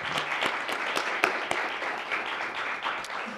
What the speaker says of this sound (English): let's give one final round of applause to our presenters this morning